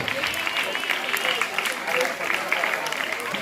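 Many hands clap in a crowd at a school Independence Day prize-giving, a continuous, fairly soft wash of applause under a speaker's amplified voice.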